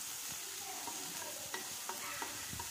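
Curry leaves and onion sizzle and crackle in hot oil, with steady frying hiss and a few sharp clinks and scrapes of a spoon stirring in the pan, close up and without talk.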